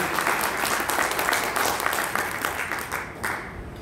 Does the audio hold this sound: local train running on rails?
no